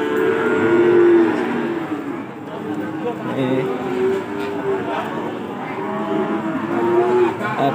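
Cattle offered for sacrifice at a Javanese weekly livestock market moo in several drawn-out calls over a constant hubbub of market voices, with someone briefly speaking nearby.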